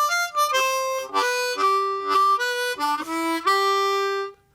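Solo blues harmonica playing a short loop, a few punchy reedy chords and single notes in a bouncing rhythm, close and clear, ending in silence.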